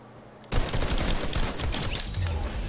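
Sustained burst of Fortnite gunfire from a pistol, with dense rapid shots starting abruptly and continuing loud and steady to the end, no voices.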